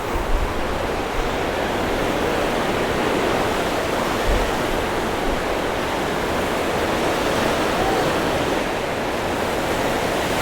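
Ocean waves on Bingin Beach in Bali, a steady, broad wash of surf noise heard from nearby, continuous and loud with no voices.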